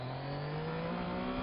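A 2015 Yamaha FZ-09 (MT-09) motorcycle accelerating, a steady rising engine drone with tonal whine, heard from on board and moderately faint.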